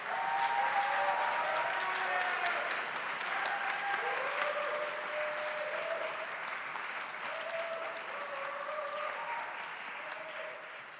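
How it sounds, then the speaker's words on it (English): Concert audience applauding at a university wind ensemble performance, a sustained steady wash of clapping that fades slightly toward the end, with faint voices underneath. "Can we give one more round of applause to Chelsea?"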